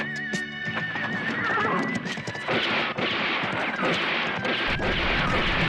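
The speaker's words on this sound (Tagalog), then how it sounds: "Dito nakahiga si Leon Guerrero habang papalapit sa kanya ang kanyang kabayo" Horse from the 1980 film Leon Guerrero neighing with a long, shrill whinny, then hooves clattering nearby as loud action sounds crash in and keep building.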